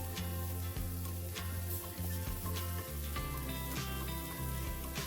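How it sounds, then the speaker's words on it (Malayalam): Shallots and green chillies frying in hot oil for a lunch dish, a soft continuous sizzle with occasional crackles, faint and steady beneath a background musical tone, no talk. "ഈ ചെറിയ ഉള്ളിയും പച്ചമുളകും ഈ എണ്ണയിൽ കിടന്നൊന്ന് മൂത്ത് വരണം"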